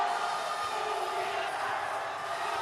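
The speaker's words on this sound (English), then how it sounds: "Mayor SB Pineda clapping and cheering for level up LUBAO" A crowd in a basketball arena during the final minute of a fourth quarter roars in a dense, sustained wall of cheering and shouting, loud and continuous, with no distinct claps standing out.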